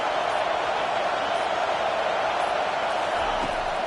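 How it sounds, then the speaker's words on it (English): A college football stadium crowd roars in a steady, loud, dense wash of cheering and noise that holds without a break. "Listen to this crowd just shaking the girders of this place, trying to help their defense"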